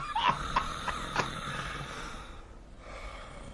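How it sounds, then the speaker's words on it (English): A man asleep and snoring, a few sharp snorting gasps in quick succession followed by quieter breathing, close and with no talk. "Please don't tell me my snoring's that loud."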